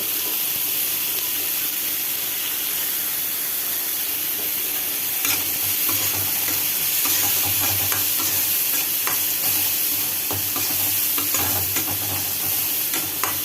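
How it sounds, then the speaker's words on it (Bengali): Food stirred in a sizzling frying pan, a steady close hiss with scraping and clinking strokes that grow busier partway through, and no voices. "এখন এটাকে একটু নাড়াচাড়া দিয়ে নেব।"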